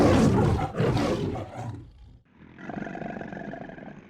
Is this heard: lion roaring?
yes